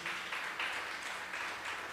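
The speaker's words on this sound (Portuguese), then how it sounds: "Quem pode aplaudir ao Senhor por isso?" Church congregation applauding together during a sermon, a steady wash of clapping that swells and eases slightly over two seconds, moderately distant and with no voices over it.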